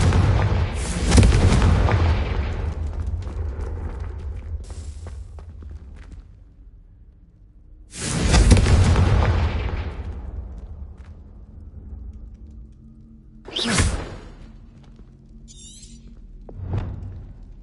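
Three heavy fire-blast explosions from the Confringo spell in Hogwarts Legacy, each a loud booming burst with a long rumbling decay, spaced several seconds apart, followed by a smaller fourth blast, with no talking.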